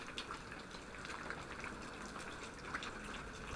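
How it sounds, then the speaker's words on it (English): Waterfall of unknown origin on Madeira, heard as a faint, steady wash of falling water with soft splashing and dripping detail, distant and continuous. "So it remains a mystery where this waterfall is coming from."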